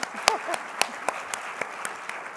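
Audience applause for a volunteer at a hospitality industry program: sparse, scattered claps from a small group, fairly quiet and spaced out, with a voice briefly heard among them.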